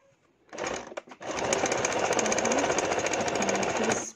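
A sewing machine stitches fabric for an oversized ethnic chapan coat. After a short start and pause, it runs loud and close in a continuous fast rattle.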